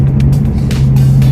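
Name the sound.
car engine revving loudly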